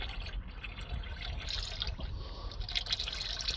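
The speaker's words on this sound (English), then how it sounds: "We'll just drain that other extra litre I put in, which is going to flush any of the old deposits" Engine oil from a car sump runs out through a drain tube in a steady, quiet trickle with faint dripping and gurgling at close range.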